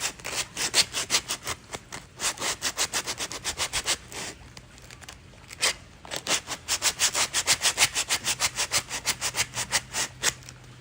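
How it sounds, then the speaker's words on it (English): Hand sanding a 3D-printed rocket part with 100 grit sandpaper, heard as steady rhythmic rasping strokes, close and fairly loud, with a short pause midway before the strokes resume. "100 grit is best for here, I guess. Because it's harder to sand."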